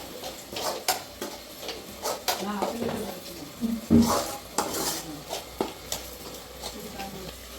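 A utensil stirs chicken gravy masala in a cooking pot for a country-chicken dish, with repeated metallic clanks and scrapes in an irregular rhythm over a light sizzle and some background talking.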